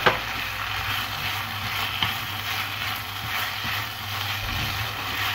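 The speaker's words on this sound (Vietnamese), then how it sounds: "Mình xào như này để cho cái phần măng này ngấm đều gia vị" Dried bamboo shoots being stir-fried with seasoning in a pan: a steady sizzle with scattered scraping and clinking from stirring, close by, and no talking.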